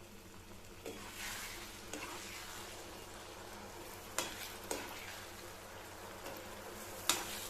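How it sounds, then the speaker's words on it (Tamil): Tamarind water poured into ground masala in a hot pan for a pickle, a steady soft sizzle with stirring and a few faint sharp clinks of a utensil against the pan. "அடுத்தது புளிக்கரைசலை சேர்த்துடலாம்."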